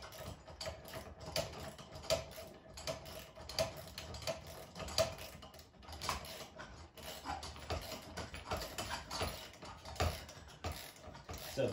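A long bolt being tightened with a 7/16 inch wrench while assembling an Earthway 1001-B garden seeder, giving faint, steady ratcheting clicks and small metallic ticks throughout with no talking.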